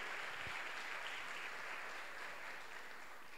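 A church congregation applauding, steady dense clapping throughout at an even moderate level, with one brief low thump near the start and no talking.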